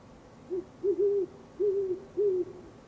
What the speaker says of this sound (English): So I hear the owl